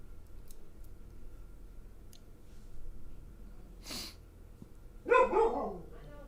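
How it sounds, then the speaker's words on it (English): One muffled dog woof comes near the end of a mostly quiet stretch with faint clicks and a brief hiss, the bark short and moderately close. "we got Max the dog woofing it up"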